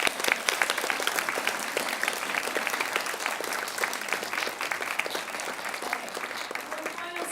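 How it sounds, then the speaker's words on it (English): Sustained applause from the audience at a university volunteering awards ceremony, dense steady clapping holding at a fairly even level throughout, with a few voices mixed in. "a big round of applause for everyone"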